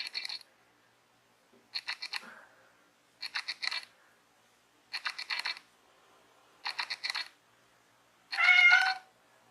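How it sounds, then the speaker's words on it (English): A pet cat meows repeatedly indoors, six short calls spaced about every second and a half, the last one louder and longer, with no talking over them. "Sorry for my cat in the background."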